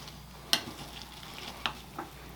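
Chopped vegetables are stirred in a bowl with a little oil and salt, giving a few soft, wet clicks and scrapes, quiet and close, with no talk.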